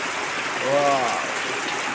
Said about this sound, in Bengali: কি সুন্দর বৃষ্টি, বৃষ্টি করতেছে, বৃষ্টি হচ্ছে